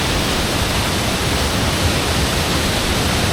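Broad, steady rushing roar of Hindhope Linn waterfall in Northumberland, falling among autumn foliage, heard close and constant with no let-up and no voices.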